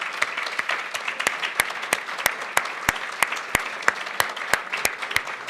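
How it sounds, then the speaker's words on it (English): A small group claps steadily, sharp distinct hand claps in an even rhythm, fairly close and without cheering. "Can we give him a round of applause?"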